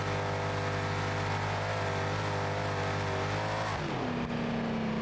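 A Mercedes in the video game BeamNG Drive accelerates with a loud, steady engine roar that holds its pitch, then drops sharply as the revs fall away near the end.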